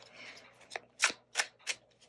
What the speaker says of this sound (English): I always like to shuffle the cards in front of you